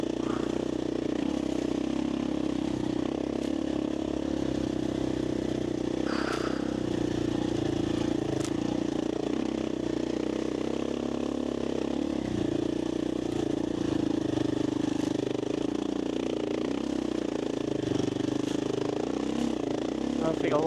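A KTM 501 dirt bike labouring through deep soft desert sand at low speed in too high a gear, its engine a steady continuous drone with rough clattering throughout, heard over wind and under the rider's talking.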